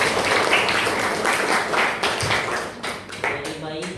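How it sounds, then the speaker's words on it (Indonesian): Classroom applause from students, a dense burst of hand clapping lasting a few seconds, fairly loud and close, fading slightly toward the end. "Tepuk tangan dulu."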